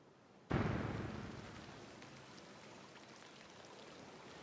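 Rain in the video game Peppered arrives suddenly as a dense rush of falling drops, loud at onset then settling into a steady hiss, with no voices.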